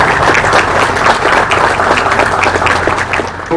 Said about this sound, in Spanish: para ustedes un aplauso